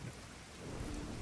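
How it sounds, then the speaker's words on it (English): Rain falls steadily with a low rumble of thunder in the video game The Division, a brief, quiet and even storm ambience without talk. "Oh, it's raining."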